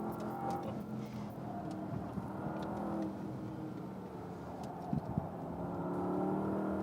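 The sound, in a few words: Porsche Panamera Turbo engine accelerating on racetrack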